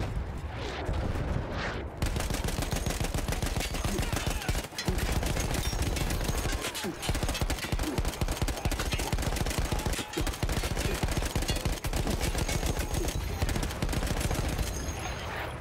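Sustained machine gun fire in the World War I shooter Battlefield 1, loud and dense rapid bursts running nearly continuously with brief pauses, layered over battlefield noise.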